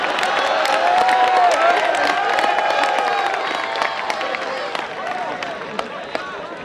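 A comedy-night audience at a college festival claps, cheers and whoops loudly under a murmur of crowd voices, the sharp hand slaps thinning out toward the end.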